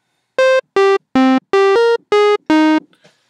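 Square and sawtooth synth oscillators sounding together in Reason's Thor synthesizer, a bright buzzy lead playing seven short, evenly spaced notes that step through different pitches, loud and close with brief gaps between them.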